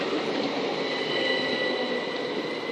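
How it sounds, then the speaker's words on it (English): A freight train rolls steadily through East Croydon station, a loud continuous rumble with high metallic wheel squeal, near and unbroken. "Oh, still a great freight train."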